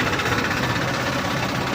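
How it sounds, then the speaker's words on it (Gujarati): A tractor engine rumbles past close by on a farm track, a steady, fairly loud mechanical drone that stays even across the short moment with no talking. "એ ટ્રેક્ટર જાય તમને બતાવો"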